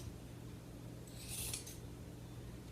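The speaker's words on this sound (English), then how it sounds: "taking my scissors, putting it to the inside of the cornice return with my tips of my scissors hitting the back" Scissors trimming upholstery fabric along the inside of a cornice return, one quiet snipping cut near the middle over faint steady room hum.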